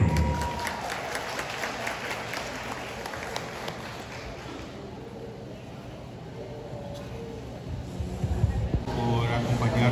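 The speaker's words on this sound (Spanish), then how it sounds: "aplauso fuerte que se escuche para los novios" Applause for the bride and groom at a Oaxacan wedding reception in Los Angeles, a crowd clapping loudly at first, fading into a murmuring room in the middle, then swelling again toward the end, with voices and music under it.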